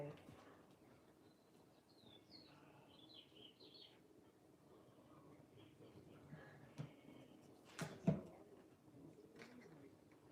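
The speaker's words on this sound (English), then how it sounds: "I can hear the birds singing outside." Birds sing outside, heard faintly from indoors: a few thin, distant chirps and warbles over quiet room noise, with a brief louder knock near the end.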